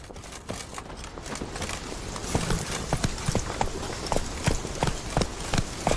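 Roach the horse's hooves clip-clop in The Witcher 3 at an even walking rhythm, crisp and close over a soft ambient background, growing more distinct as the gait settles.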